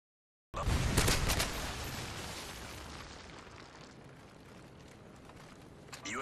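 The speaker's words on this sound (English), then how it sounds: "Friendly Predator missile in." A Predator missile slams down in a video game, a sudden loud broadband explosion that hits hard, then rumbles and slowly fades over several seconds with no talk.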